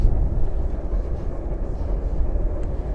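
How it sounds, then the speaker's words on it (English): A cargo train rumbles past on the Chuo line in Tokyo, a loud, steady low roar of rolling wagons with no voices. "It is a cargo train, isn't it?"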